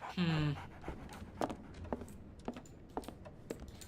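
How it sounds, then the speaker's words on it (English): Quick, breathy dog panting from a companion dog in Sherlock Holmes The Awakened, a short rhythmic burst up close followed by soft intermittent clicks and faint background noise. "So, Barnes has a dog now. Who's a good boy?"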